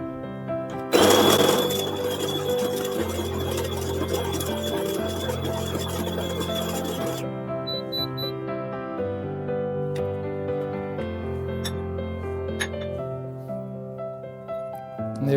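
A Homtone CG018S conical burr coffee grinder grinds coffee beans with a steady whirring motor drone for several seconds, then shuts off, leaving a faint tonal hum.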